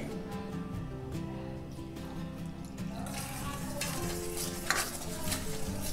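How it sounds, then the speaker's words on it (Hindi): Milk is stirred into eggless pancake batter in a bowl, making a steady, close, wet swishing and scraping churn that continues throughout, with occasional utensil taps against the side. "अच्छे से मिक्स करेंगे ताकि इसमें लम्स ना आ जाए"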